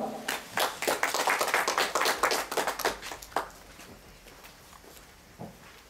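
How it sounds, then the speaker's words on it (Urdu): An audience at a Pakistan Independence Day celebration in Joso City, Japan, claps to welcome a speaker. Crisp, close claps build quickly, hold for a few seconds, then thin out and fade to scattered last claps. "تو تالیوں کی گونج میں تشریف لاتے ہیں"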